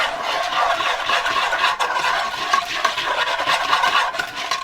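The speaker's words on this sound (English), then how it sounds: "grab a whisk and just whisk that up" A whisk beats mayonnaise into a daikon and cabbage coleslaw in a bowl, giving a steady, fast, close scraping swish that runs unbroken throughout, with no voices.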